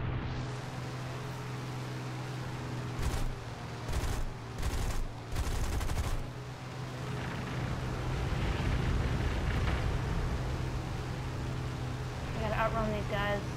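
Aircraft cannon fire in War Thunder, a P-400 in a realistic air battle, several short rapid bursts over a steady engine drone, followed by a rougher stretch of noise and some faint electronic tones.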